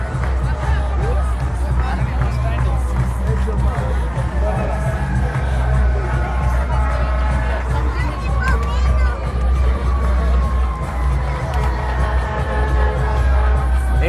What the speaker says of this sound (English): It wouldn't be New York without the crowd, without the music, without the sirens, without all of the noise here.